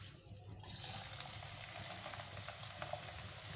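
Chopped onion dropped into hot oil for a kadhi tempering, bursting into a loud, steady sizzle that continues with faint stirring clinks, close and without talk.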